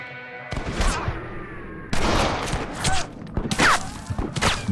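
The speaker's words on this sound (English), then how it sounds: "No idea who was shooting me then" Gunfire in Red Dead Redemption breaks out in several sharp bursts of shots, loud and close, with sudden cracks and echoing thumps separated by short pauses and no speech.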